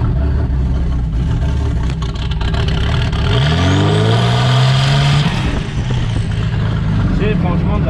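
A Traction car fitted with a V12 bi-turbo engine, rumbling at idle, then revving hard with a rising howl that sweeps up and cuts off, loud and close, with people talking over it.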